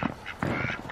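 Ducks on a snowy, cold farm give a short burst of quacking, two or three close, loud calls packed into under a second.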